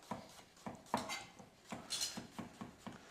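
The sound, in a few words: knife slicing a garlic clove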